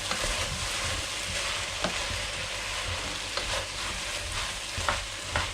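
Chicken saag dhansak sizzling in a pan while being stirred, a loud continuous frying hiss with occasional scraping clicks from the spoon.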